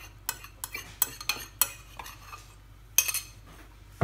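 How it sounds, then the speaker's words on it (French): A Kinder cheesecake filling of gelatine and liquid cream being mixed by hand in a bowl: a series of sharp utensil clicks and scrapes against the bowl in an uneven rhythm, with quiet gaps between strokes and no speech. "Et vous remettez le tout à mélanger"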